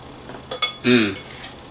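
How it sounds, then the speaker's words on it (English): A utensil clinks twice against a skillet, then scrapes through vegetables being stirred over low heat, a short close metallic rasp with a faint sizzle. "we're just going to stir in the rest of our veggies"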